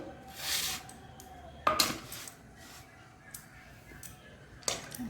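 A metal bowl and a pan are handled in a home kitchen while raw mango is measured out for jelly, giving a few sharp clinks and clatters that are spaced apart over quiet background noise.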